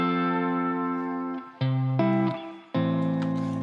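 Layered guitar tracks run through a subtle, EQ-shaped reverb plugin for soft ambience: sustained chords ring out, with new chord strikes coming about every second, and a gentle tail fills the gaps between them.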